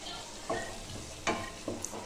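Tomatoes fry in a pan for a meal maker curry, with a steady soft sizzle under a few scraping strokes of a spoon stirring the pan, close and fairly quiet, with no talking.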